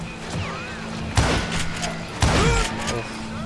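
Gunshots ring out in the Wild West shooter Call of Juarez Gunslinger during a boss fight with Curly Bill and Johnny Ringo, two sharp reverberant blasts about a second apart over steady game ambience and background music.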